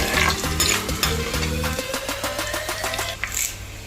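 Fresh curry leaves and green chillies hitting hot oil for a wedding-style Kerala fish curry, a steady crackling sizzle with stirring scrapes and a low rhythmic rumble in the first half, no talk.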